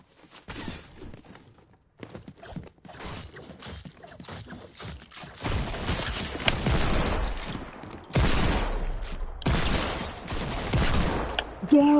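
Gunfire in the video game Fortnite: scattered quieter shots at first, then loud, heavy bursts of shooting and impacts that grow denser toward the end.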